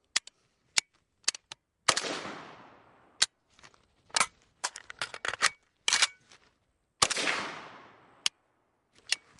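An AK rifle reload: sharp metallic clicks and clacks of a magazine being stripped out and seated, with a dry-fire snap, spaced irregularly and close, with a couple of rattling slides between them.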